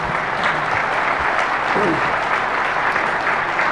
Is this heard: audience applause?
yes